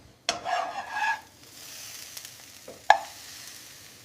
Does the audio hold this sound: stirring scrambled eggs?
yes